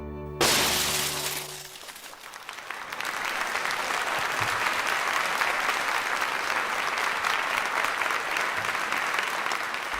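A paper screen bursts with a sharp tearing crash, then a theatre audience greets Georges Méliès on stage with sustained, dense applause filling the room.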